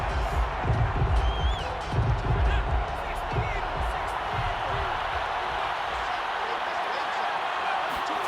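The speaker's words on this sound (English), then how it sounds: "Plenty of shouts from this crowd as they watch the replay." A stadium crowd in an American football video game roars and shouts steadily as a replay is watched, a dense wash of noise under a commentator's talk.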